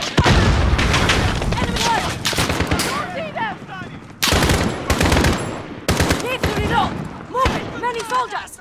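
Dense, loud gunfire from Call of Duty: Modern Warfare on the Captive mission, with repeated bursts and heavy blasts that come and go while voices shout over the shooting.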